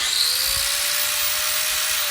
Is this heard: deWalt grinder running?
yes